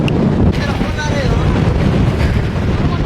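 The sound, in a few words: strong wind on Mullayanagiri hilltop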